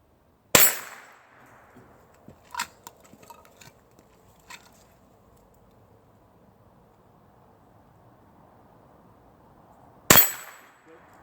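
Two sharp gunshots ring out from behind a tactical barricade during iron-sight training, spaced about ten seconds apart, with faint clinks and handling noises between them.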